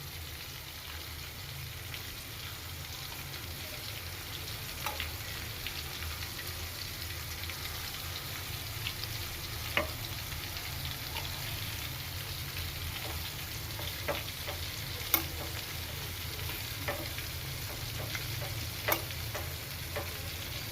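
Stuffed kantola coated in masala fries quietly in a pan over low gas. A steady, soft sizzle runs throughout, broken by occasional light clicks as the pieces are turned one by one.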